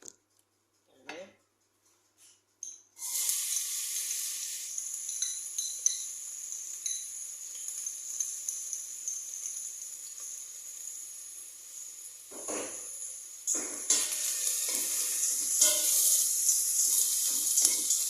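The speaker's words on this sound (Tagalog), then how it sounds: "Ito lang yung igigisa natin ito. Saka ilagay yung kanin." White rice sautéing in a hot pan, a steady close hiss and sizzle that begins abruptly after a few quiet seconds of handling sounds, swelling again near the end as it is stirred.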